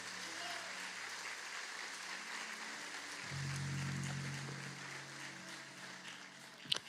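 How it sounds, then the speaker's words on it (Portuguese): A church congregation applauds God, a steady wash of many hands clapping at moderate volume that swells slightly midway, with a low droning tone underneath. "Pode aplaudir o nosso Deus."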